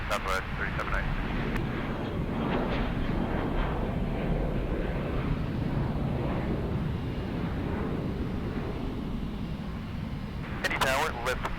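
A Southwest airliner takes off at Indianapolis, a steady broadband jet roar holding at one level throughout, with air traffic control radio voices talking over it.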